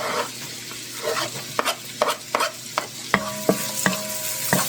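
Garlic sizzling and frying in a pan for a chicken and broccoli stir-fry, with a steady crackling hiss broken by repeated sharp clacks of a utensil stirring and scraping against the pan.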